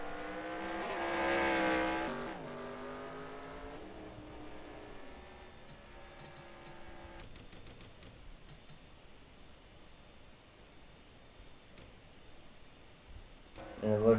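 Stock cars in a FAST Renegade Pro Cup racing video game at the Nashville track spin out, with a loud rising engine whine and tire noise early that fades into a steady low engine drone, then picks up again sharply at the end.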